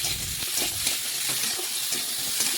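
Cut potatoes fry in a pan with salt, a steady hiss of sizzling oil punctuated by soft scraping and shuffling as they are stirred, close and continuous without speech.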